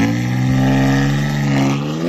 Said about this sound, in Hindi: रियल BMW M3 स्टॉक में कुछ ऐसा साउंड निकालती है